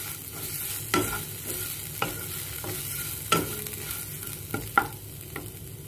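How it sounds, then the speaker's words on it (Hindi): Grated coconut and spices for a Kolhapuri masala fry quietly in a pan, a soft sizzle punctuated by several sharp scrapes and knocks of a spatula stirring, with no talking. "अब हम इसमें डाल देंगे नारियल। नारियल को बहुत ज्यादा नहीं पकाना, हल्का सा पकाना है।"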